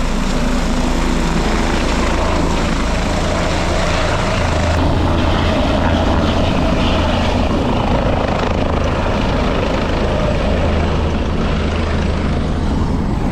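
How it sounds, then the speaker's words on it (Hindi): Loud, close helicopter roar near Kedarnath, India, with heavy rotor wash and engine noise filling the whole stretch, steady and overwhelming. "हेलीकॉप्टर की आवाज़ बहुत ज़्यादा आ रही है"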